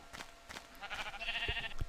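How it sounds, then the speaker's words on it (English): A Minecraft sheep bleats, a short wavering nasal cry in the middle, among soft game thumps and footsteps, with no voices. "Stupid tree-dwelling sheep."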